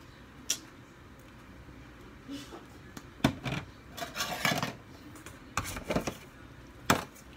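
Peaches being mixed with nutmeg in a bowl for a dump cake: sparse, irregular clinks and scrapes of a utensil against the bowl, with a cluster of louder knocks midway, close but fairly quiet.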